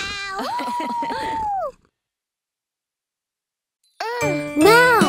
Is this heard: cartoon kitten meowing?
yes